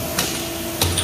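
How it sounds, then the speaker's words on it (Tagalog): A hammer strikes the edges of a freshly cast aluminum pan in a molding workshop, two sharp metallic knocks about half a second apart over a steady hum of factory noise. "Kaya pinupukpuk yung mga gilid-gilid para matanggal, malinis."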